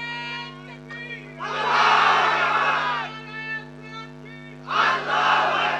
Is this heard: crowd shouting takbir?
yes